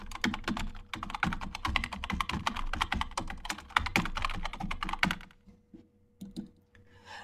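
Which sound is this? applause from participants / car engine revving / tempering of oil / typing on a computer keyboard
typing on a computer keyboard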